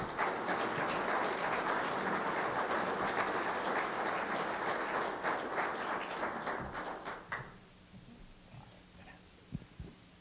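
Audience at a legislative breakfast applauding to welcome a speaker, a sustained wash of clapping that fades out after about seven seconds, followed by a few scattered claps and quiet room noise.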